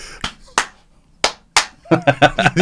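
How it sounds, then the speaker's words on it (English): Hands clap in an uneven, asymmetrical rhythm: four sharp claps spaced irregularly, then a quick burst of rapid clapping mixed with brief vocal sounds. "asymmetrical clapping."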